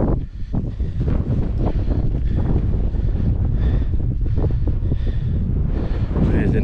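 Strong wind on Crookstone Knoll, a hilltop on Kinder Scout in the Peak District, roaring and buffeting loudly and steadily against the microphone, with a brief spoken word partly lost under it.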